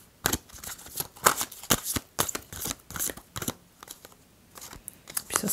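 Oracle cards riffled and slid from a deck, a string of crisp papery flicks and snaps in an uneven rhythm, close and fairly loud in a quiet room.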